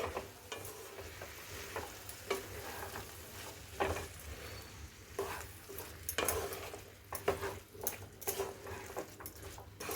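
Chopped bottle gourd is stirred into spice masala frying in a pan for a Bihari-style lauki chana dal: soft, steady sizzling under repeated scraping strokes of a spoon against the pan, fairly quiet and close.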